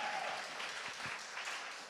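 Church congregation applauding during an online prayer gathering, a steady wash of clapping lasting throughout, fairly distant and even in level, with no distinct voices over it.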